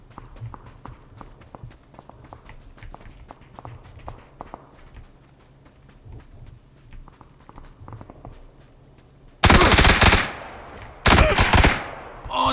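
In the PUBG video game, faint footsteps and distant taps come first. Loud, close bursts of gunfire then hit twice near the end, each lasting about a second, with no speech.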